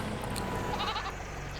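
Sheep bleating in the Farming Simulator 22 farming game: a few short, nasal bleats rise over a steady, full background of farm ambience, fairly close and continuous.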